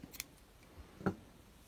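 Scissors snip crochet yarn at the end of a small sakura-flower bookmark, a couple of faint close clicks with one sharper cut near the end, quiet and alone.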